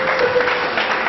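Applause from a church congregation at the close of a Bible school ceremony, a steady, dense clapping that stays even and fairly close throughout the short burst, with no voices over it.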